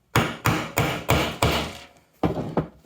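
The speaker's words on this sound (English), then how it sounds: "Take this small pointy punch, place that there. Now this will make quite a loud noise" Sharp, loud hammer blows strike a small pointy punch to set a snap fastener: six evenly spaced hits, a short pause, then two or three more, each ringing briefly.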